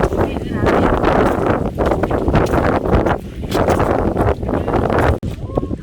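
Loud, strong wind buffets the microphone in rough, roaring gusts that cover everything else, with brief rustling.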